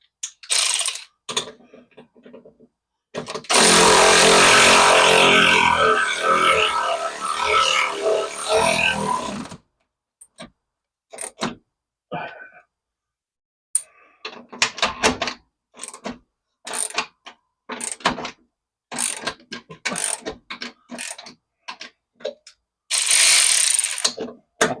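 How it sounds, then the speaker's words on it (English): An electric ratchet drives bolts on a vehicle steering box, sounding in loud, close whirring bursts, one long run of several seconds and several shorter ones, separated by quiet pauses and small clicks and clanks of tools. "we'll go ahead and switch over to the electric ratchet and just get it in there"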